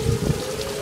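Heavy rain pours during a storm with tornado warnings, a steady close wash of noise with a faint underlying hum and no voices.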